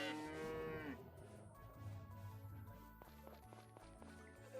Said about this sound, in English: I feel like you can hear the cow really clearly